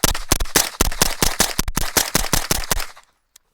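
A suppressed PSA JAKL rifle fires AAC ammunition from a PSA magazine in a fast string of loud, close, sharp reports, about twenty shots in rapid succession, ending abruptly into quiet.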